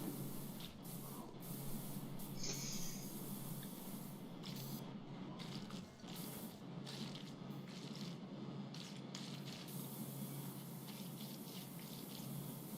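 A pressure washer sprays continuously in the video game PowerWash Simulator 2, a steady hissing jet with small bursts and spatters, fairly quiet, with no one talking.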